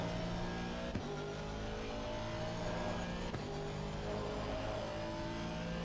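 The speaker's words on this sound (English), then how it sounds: "I had a feeling that the engine sound could be a bit more up" A race car engine drones steadily at high revs through a night session at Imola in a racing video game, with a continuous, loud tone that dips briefly near one second and again past three seconds.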